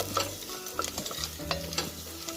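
Onion frying to golden brown in a pan with soybeans, stirred with a utensil: rhythmic scraping knocks over a soft steady sizzle, close and fairly quiet, no talking.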